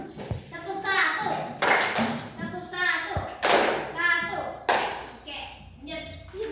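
A class of pupils in a microteaching fiqh lesson claps together on command, a few sharp unison claps in short bursts amid children's voices and a teacher speaking.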